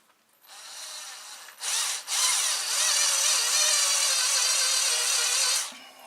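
Small power drill boring into a hard fishing lure, a steady high whine with a couple of short starts before one long continuous run, close and alone.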